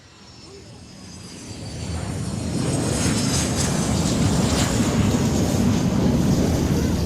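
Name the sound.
private jet arriving at Rendani Airport, Manokwari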